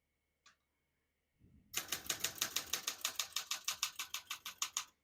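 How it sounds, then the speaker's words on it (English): Keys strike rapidly on a 1966 Olympia SM9 portable manual typewriter, a quick, even run of sharp clacks close to the microphone after a single click and some brief handling noise. "We're going to keep that on single for now and finish typing."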